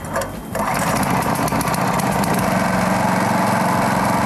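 A Quick FTL820 cultivator engine is cranked and catches, then runs steadily at about half throttle, a loud, continuous buzzing drone close by with no pause after the first half second.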